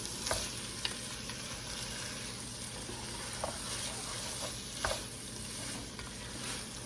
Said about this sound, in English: Just stirring that rice a little bit.